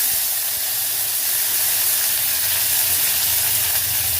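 Mustard seeds, urad dal, fennel and curry leaves sizzling in hot oil, a loud, steady, close hiss of frying that holds evenly throughout with no talk.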